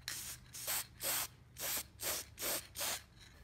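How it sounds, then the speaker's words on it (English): Short bursts of aerosol adhesion promoter spraying onto a bare plastic bumper hiss seven times in a steady rhythm, each lasting about a third of a second, close by with a faint low hum underneath. "So just spray any bare plastic and it's good."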